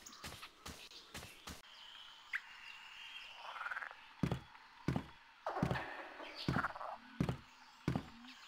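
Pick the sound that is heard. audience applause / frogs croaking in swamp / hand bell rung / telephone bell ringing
frogs croaking in swamp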